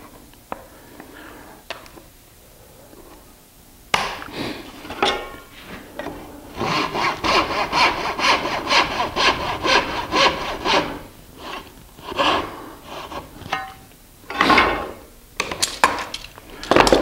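A hand saw cuts wood dovetails for a pie safe, with short starting strokes building into a run of steady rhythmic back-and-forth rasping, then scattered strokes and knocks, close up with no talking.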